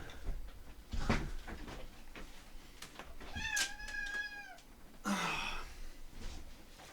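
Amber, a pet cat, lets out one clear meow in the middle of scattered thumps and rustles after knocking things over indoors, with a breathy noise just afterward.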